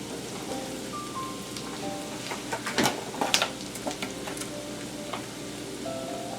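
Fat rendering in a pan over medium-low heat while making a Bordelaise sauce: a steady, close sizzle and crackle with scattered sharper pops, no voices.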